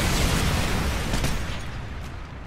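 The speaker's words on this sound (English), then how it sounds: "Friendly Predator missile inbound." A Predator missile strike explodes in Call of Duty, a loud, dense rumbling blast that roars at full strength and slowly tapers over a couple of seconds, with no voices.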